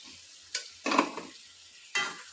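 Second coconut milk is stirred in a pressure cooker with a spoon. It gives a few quiet, scraping swishes and a soft sizzle in short bursts, close by, with no talking.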